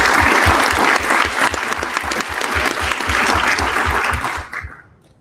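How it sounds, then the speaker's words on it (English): Audience applause at a live Democratic congressional debate for the 9th District, a loud, dense burst of clapping from a crowd that holds steady for about four seconds before quickly fading out. "You can clap for them."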